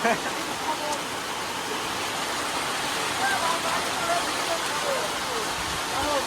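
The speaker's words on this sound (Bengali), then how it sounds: "ভাই বৃষ্টি হচ্ছে প্রচুর জোরে" Heavy rain pours down steadily in a village, a dense, even hiss of falling water that holds for several seconds with no letup.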